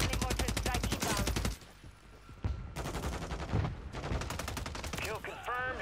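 Heavy game gunfire and mortar impacts in Call of Duty Warzone, with rapid bursts of shots, a deep booming blast and further volleys overlapping at close range, loud throughout.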